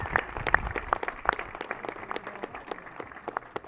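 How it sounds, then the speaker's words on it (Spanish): An audience applauds in honour of Iván Coronado during a 50th anniversary celebration in San Pablo, with dense, steady clapping at moderate distance that continues evenly throughout, with no voices heard over it. "Yo creo que debemos brindarle un fuerte aplauso"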